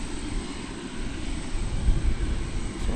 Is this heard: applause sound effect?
no